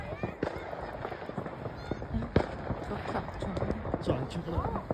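Bonfire night fireworks outdoors, with rocket bursts and crackling pops scattered through five seconds, a couple of sharper louder bangs among them, as people chat nearby.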